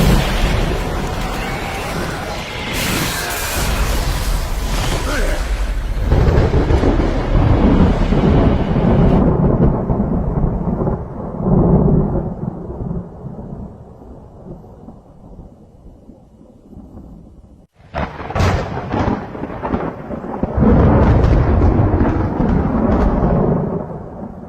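Thunder effect behind an illustrated Bible narration: long deep rumbling roar with heavy low crashes, a sudden break near the middle, then a fresh loud crackling burst that rolls on to the end.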